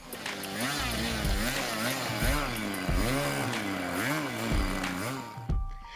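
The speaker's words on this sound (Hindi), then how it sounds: "इस उड़ान के लिए ओएस इंजन का इस्तेमाल किया गया है" OS glow engine on a homemade balsa-wood model airplane runs close and loud for the whole stretch, a steady high buzz whose pitch rises and falls in repeated swells, cutting off sharply near the end.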